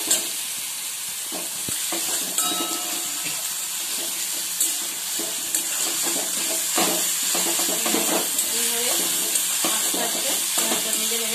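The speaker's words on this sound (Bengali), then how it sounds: "আমি এবারে হালকা করে পেঁয়াজটা ভেজে নেব" Onions frying lightly in a pan over a high flame after salt is added, giving a steady sizzle broken by frequent stirring scrapes and clinks, close and fairly loud, with no talking.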